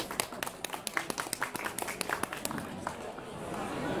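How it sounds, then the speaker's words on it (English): Scattered clapping from a seminar audience welcoming a speaker onstage, a burst of distinct claps that thins out and fades into room murmur by the end. "Please welcome Nick with a round of applause."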